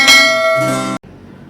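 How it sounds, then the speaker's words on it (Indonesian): A bright notification bell chime rings once, loud and ringing with clear tonal overtones, then cuts off abruptly to near silence. "dan aktifkan lonceng notifikasinya."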